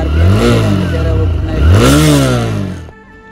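A TVS Raider 125 motorcycle engine revs up twice, rising in pitch with each throttle blip, loud and close, then drops back to a low idle.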